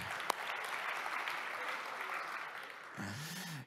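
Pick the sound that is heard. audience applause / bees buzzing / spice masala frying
audience applause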